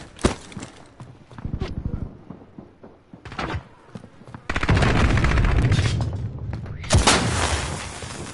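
Rapid video game gunfire bursts in volleys, loud and dense, with bangs and sustained firing near the middle and end, while a player talks excitedly over parts of it.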